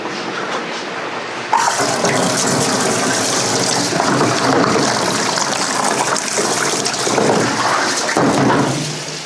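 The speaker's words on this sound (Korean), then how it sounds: "그러면 채를 한번 헹궈 주세요." A kitchen tap runs steadily as a fine-mesh sieve is rinsed under it while making doenjang stew, a loud continuous gush of water splashing through the mesh that starts abruptly and keeps flowing close up.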